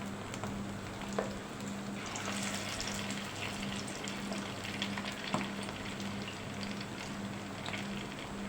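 Fish pakoras fry in a pan of hot oil at medium heat, a continuous bubbling sizzle with occasional light clicks, steady throughout and without speech.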